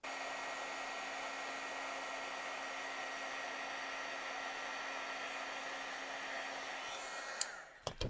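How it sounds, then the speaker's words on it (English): An embossing heat gun blows hot air in a steady, even whoosh that runs unbroken for several seconds at close range, then cuts off abruptly near the end, leaving a few small clicks. "Okay, I'm going to heat up my heat tool."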